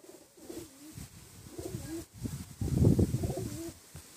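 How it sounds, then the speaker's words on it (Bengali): Pigeons in a loft coo repeatedly in soft, throaty rolling phrases that swell louder toward the end, close to the listener with no talking. "এসব আমার মেন পায়রা"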